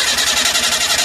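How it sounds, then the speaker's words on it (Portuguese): Fiat Uno engine cranking while out of timing, a rapid rhythmic pulsing churn with popping backfires through the exhaust, close and fairly loud. "Vou funcionar o carro agora pra vocês verem"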